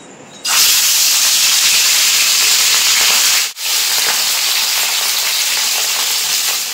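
Fish pieces coated in salt and turmeric frying in hot mustard oil in a kadai, a sudden loud steady sizzle that holds with a brief dip midway.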